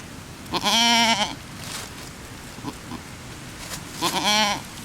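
A goat bleats loudly and close twice, with a fainter short bleat between, each call a wavering nasal cry separated by quiet.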